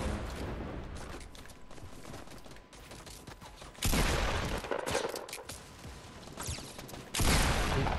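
Rapid bursts of gunfire in the Fortnite battle royale video game, crackling volleys that swell loudly at intervals and then ease off, with no talk over them.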